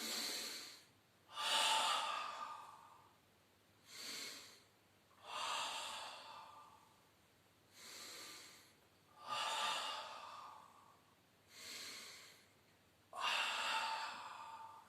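Deep, forceful breaths during a Pilates abdominal exercise, about eight long inhale-exhale cycles in a slow steady rhythm, close and alone with no talking.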